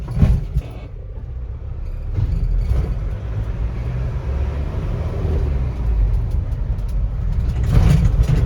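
A car being driven out and pulling away, a steady low engine rumble and road noise that swells slightly toward the end, close and fairly loud with no talk.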